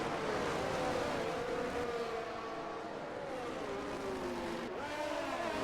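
Race cars in F1 22 run nose to tail in a four-car DRS train at the front at Singapore, a steady, loud, continuous engine whine with shifting pitch as the cars hold close formation.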